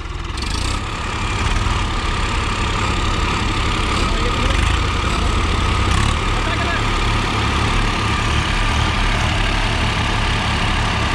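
Swaraj 855 FE and Farmtrac 6 tractor engines run steadily at about 1500 RPM, a loud continuous low diesel drone with people talking over it throughout.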